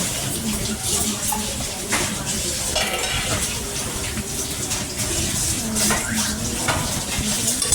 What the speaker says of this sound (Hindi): और मैंने सारे बर्तन धुल रही हूँ।